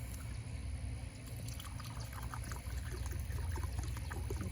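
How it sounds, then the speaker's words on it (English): Water is poured into a raised garden bed, making a quiet, steady trickle and splash that runs throughout under a low background rumble. "So I'm going to put water in it, just like I did the other one."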